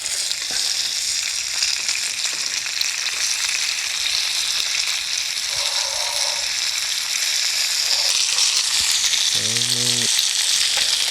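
Redfin (European perch) fish fries in a pan with a loud, continuous hissing sizzle, broken by a few soft scrapes as it is flipped and a brief tonal squeak near the end.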